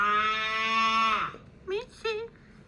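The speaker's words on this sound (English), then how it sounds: "sound like a baby sheep." A bleat like a baby sheep's rises as a long, strained, wavering cry, then breaks off into two short quavering bleats, close and fairly loud against a quiet background.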